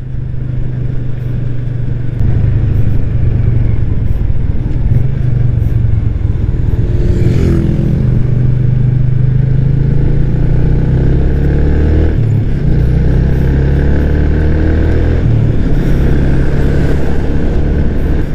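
Motorcycle cruising gently on a road toward an LTO registration renewal, riding with companions: a steady, loud engine drone with wind noise, subtle pitch shifts as it eases along, no talk.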